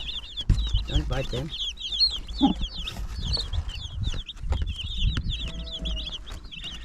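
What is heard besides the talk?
chickens clucking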